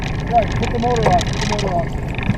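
An outboard motor runs on a musky-fishing boat on a nearly frozen lake, its steady low drone sitting under people talking nearby.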